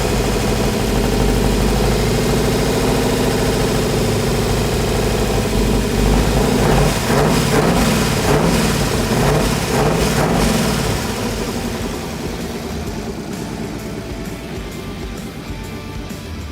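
A 1940s-era vintage race car engine, built without a starter and using an in-and-out box, runs loud and rough with rapid firing pulses, then settles lower and quieter toward the end.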